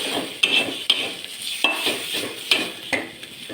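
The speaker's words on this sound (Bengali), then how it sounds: "এরপর মশলাটিকে ভালো করে কষিয়ে নেব টুকরো করে রাখা একটা টমেটো দিয়ে দেবো" A spoon scrapes and stirs a spice masala frying in a pan with added tomato pieces, giving about seven sharp scraping strokes at a steady rhythm over a soft sizzle, with no talk.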